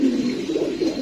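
A racing pigeon coos in a short rolling burst, close and clear, with no talk over it.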